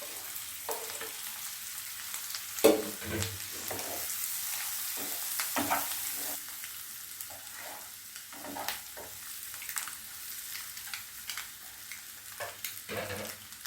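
Cut boiled egg pieces frying in hot oil in a pan, a soft steady sizzle with occasional stirring scrapes and clinks, fairly quiet and alone without voices.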